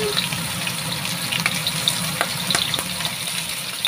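Fish sizzles and crackles steadily in a pan of hot oil, frying ahead of being cooked as adobo, with a continuous hiss and scattered pops.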